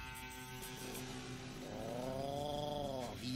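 The mine bike's engine in the video game Deponia idles with a rough, rattling, purring drone, steady and loud, rising in pitch toward the end.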